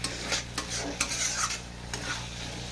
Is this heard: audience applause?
no